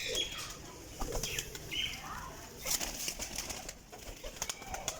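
Pigeons flap their wings in a breeder's setup of several pairs, with a few quick flurries of wingbeats and soft cooing-like calls scattered through a busy, moderately close scene, no talk.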